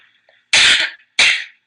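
Two sharp, loud sneezes close by, the first longer and bursting, the second quicker, with a faint breathy sound before them.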